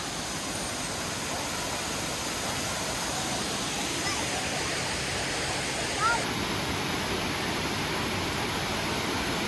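A Tennessee waterfall beside a hiking trail gives a constant, even rushing roar from nearby, unchanging throughout, with no voices heard.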